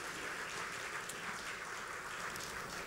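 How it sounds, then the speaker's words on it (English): An audience applauds volunteers in a steady, even wash of clapping that stays faint and distant throughout. "So if we could give them all a big round of applause for volunteering more of their time."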